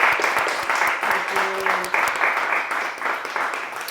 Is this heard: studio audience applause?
yes